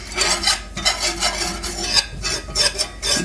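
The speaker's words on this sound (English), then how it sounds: "we're simply going to use our whisk and make a paste" A whisk scrapes rhythmically through butter and flour in a pan, stirring them into a paste with quick, repeated rasping strokes, close and steady with no voices.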